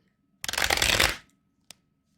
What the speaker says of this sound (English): Gonna get a few more shuffles and we'll get started.